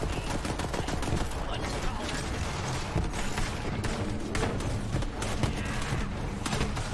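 Rapid rifle gunfire from the video game Borderlands 3, dense overlapping shots crackling continuously at close range with a busy game soundscape behind, no pause across the stretch.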